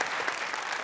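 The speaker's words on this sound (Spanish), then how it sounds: "Nuestro aplauso para recibir a Lucía Méndez" A studio audience applauds to welcome Lucía Méndez on a television variety show, a brief, steady wash of clapping heard alone.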